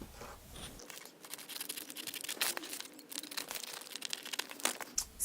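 Scissors cut out a paper skirt pattern piece for a back vent, giving close, quiet crinkling and snipping that runs steadily for several seconds.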